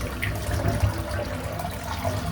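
A brush is rinsed under a running tap: a steady, close rush of flowing water with gurgling splashes that holds at an even level throughout, with no voices.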